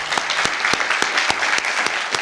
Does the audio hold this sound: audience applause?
yes